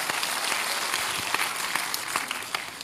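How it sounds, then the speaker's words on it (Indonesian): A church congregation claps for the praise and worship team, a steady wash of applause from many hands, moderately loud and continuous throughout. "Boleh tepuk tangannya di extend buat tim praise and worship kita."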